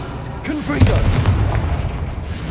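A fiery spell blast in Hogwarts Legacy bursts with a deep booming thud, followed by a rumbling, crackling tail that fades over a couple of seconds, with a brief voice near the start.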